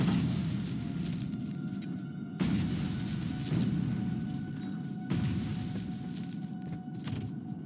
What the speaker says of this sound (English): we'll grenade some of this out of the way